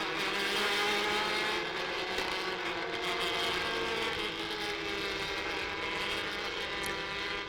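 IndyCar race cars lapping Lucas Oil IRP, a steady, dense engine roar that holds at a constant loud level throughout with no distinct pass-by peaks, like a pack of cars circling a short oval.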